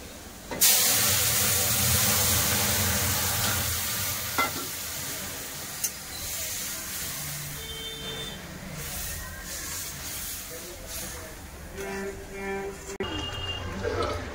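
Dal tipped into hot mustard-oil tempering with onions fried until red, bursting into a loud, steady sizzle while a spoon stirs and scrapes the pan close up, with occasional clinks.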